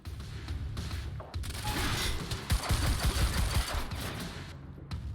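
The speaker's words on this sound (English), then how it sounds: "Then stop fucking shooting at us." Gunfire in the Quantum Break video game: rapid, dense bursts of shots and booming impacts crackle nonstop in a chaotic firefight, fairly loud throughout with no talk over it.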